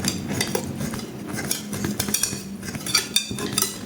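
A utensil scrapes and clinks against an oiled pan while fermented bread is sliced and lifted out, close metallic taps and scraping in an uneven rhythm, with no voices.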